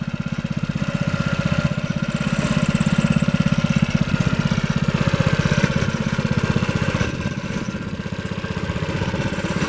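An old International Harvester Cub Cadet lawn tractor engine runs loud and close with a steady, rapid mechanical chug, revving briefly as it pulls a wheelie.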